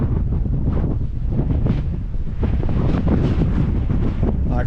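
Strong wind buffets the microphone on a high hillside along a quad track, a loud continuous rushing roar with gusty swells throughout and no voices.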